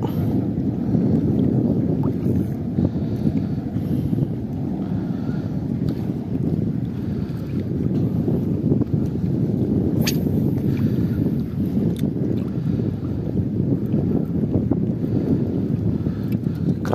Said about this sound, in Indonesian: Wih, anginnya keras sekali.